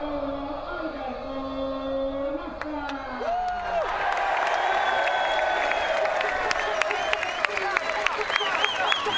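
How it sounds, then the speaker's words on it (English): A crowd at a NASCAR podium ceremony in Italy cheers and claps from a distance, the noise swelling and staying steady, with whistles and whoops mixed in. "get ready for the cheer"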